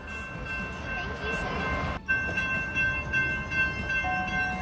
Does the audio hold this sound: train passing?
yes